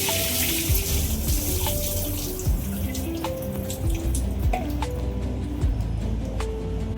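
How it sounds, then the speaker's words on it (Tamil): Tap water runs steadily into a bowl of soaked chana dal in a kitchen sink, splashing and swirling with occasional bright drips and clinks as the lentils are rinsed, loud and close throughout. "நல்லா வாஷ் பண்ணி 2-3 டைம் நான் நல்லா வாஷ் பண்ணிட்டேன். இது வந்து 4வது டைமாக வாஷ் பண்ணுறேன்."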